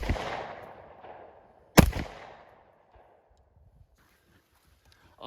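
A Banshee firearm is fired at a steel plate. A loud crack opens the clip and decays slowly, and a second sharp report follows about two seconds later, each echoing away into near silence.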